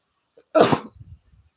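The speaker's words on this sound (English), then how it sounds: "I feel like I have to sneeze." A single sharp sneeze bursts out loud and close, trailed by a few soft, low rustles as it fades.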